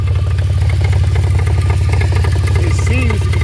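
A running BMW E46 engine with a rapid, regular knocking traced to the alternator, loud and close in the engine bay, with someone speaking briefly over it.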